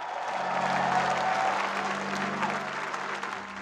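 A church congregation claps together in praise of the Lord, a dense, sustained wash of applause filling the room at even loudness throughout.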